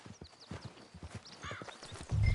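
Horse hooves clip-clop in a PS4 video game, a fairly faint run of quick, rhythmic thuds, then a louder low rumble of movement near the end.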